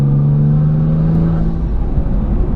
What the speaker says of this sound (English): The exhaust sounds so meaty, and you can hear the blow-off valves.